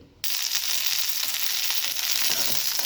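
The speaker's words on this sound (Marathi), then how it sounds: "मिरची आपली भाजत आलेली आहे" Green chillies roasting in hot oil in a pan for a cabbage dish, a loud dense sizzle that bursts in abruptly and holds steady with faint crackles, no speech.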